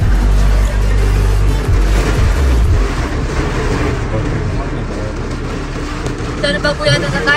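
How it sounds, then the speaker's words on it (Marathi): Rain pours steadily on a vehicle out on the road during a Basava Jayanti outing, a loud dense drumming wash with low engine rumble early on and some voices mixed in. "पण पाऊस अजून सुद्धा आहे"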